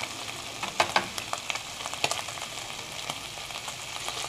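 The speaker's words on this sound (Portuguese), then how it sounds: "Agora a gente frita a cebola." Finely chopped onion frying in a pan with already-fried seasoned beef liver, a steady close sizzle broken by quick crackling pops and stirring scrapes, no talking.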